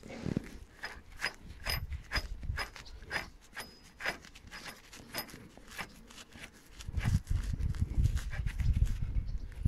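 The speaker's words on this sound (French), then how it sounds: "Après je serre avec la clé." Rapid ratcheting clicks come from a wrench tightening bolts under a platform while an A-frame house is built, quick rhythmic bursts nearby, with low thumps and handling noise toward the end.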